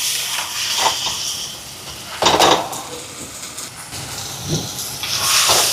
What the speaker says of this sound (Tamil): இப்போ தக்காளி பழமெல்லாம் நல்லா வதங்கி வருது பாருங்க.